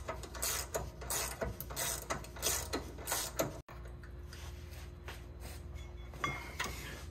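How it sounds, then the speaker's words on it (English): A ratchet strap on a 4x4 is worked and released, giving loud, rhythmic ratcheting clicks at close range, a sudden break, then quieter mechanical clicks and clunks. "I'm gonna go ahead and get the ratchet strap off"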